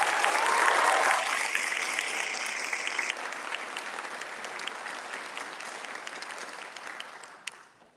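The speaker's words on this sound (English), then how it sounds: "Let's give them all one more round of applause." A crowd gives a long round of applause for honored scholars and educators at an awards evening, starting full and dense, then thinning and fading away over several seconds.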